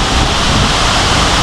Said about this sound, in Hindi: इतना बड़ा पहाड़ और उसके ऊपर से ये वाटरफॉल।